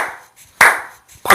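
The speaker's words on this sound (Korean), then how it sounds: "박수를 쳐주는 거다." Three sharp hand claps ring out alone at a slow, even pace, each loud and close with a short decay.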